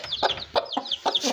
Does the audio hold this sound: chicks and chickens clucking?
yes